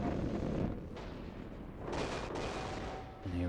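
Missiles pound a voxel build in a video game, producing a continuous roar of rumbling explosions and blasts that swells and dips over a few seconds, loud and dense with no talking.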